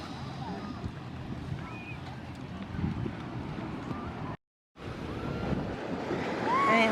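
Ocean surf washes steadily against a breezy shoreline, with wind buffeting the microphone and faint distant voices; a brief dropout interrupts midway.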